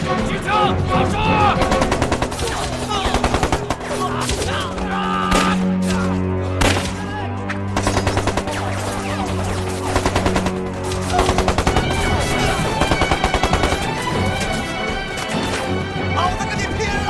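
Machine gun fire in a TV drama battle scene, a dense, continuous stream of loud rapid bursts mixed with crashes and shouting voices throughout.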